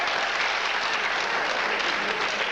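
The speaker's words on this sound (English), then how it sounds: "let's have them just clap their hands" Ninth graders clapping their hands at a high school awards assembly, a continuous crackling wash of many hands in a large room, steady and fairly distant, with no voices over it.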